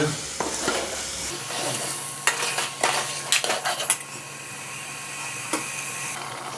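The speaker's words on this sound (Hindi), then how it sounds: "1 किलो चिकन है, इसको भी मसाले के साथ में 2 से 3 मिनट भूनेंगे पहले" A kilogram of chicken fries with masala in a pan, giving a continuous sizzling hiss. A cluster of spoon scrapes and metal clinks comes midway, then the frying continues steadily on its own.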